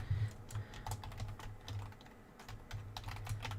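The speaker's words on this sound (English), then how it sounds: "sorry, I'm typing out the group" Rapid clicking of typing on a computer keyboard, steady irregular keystrokes close up throughout with a low hum underneath and no talk.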